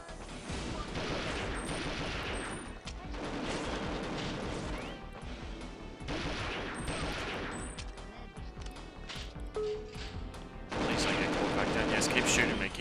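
Repeated gunfire and crashing impacts in the Nintendo 64 shooter Perfect Dark during a hostage rescue mission, dense rapid shots in clustered bursts, loud throughout with a louder flurry at the end, mixed with game voices.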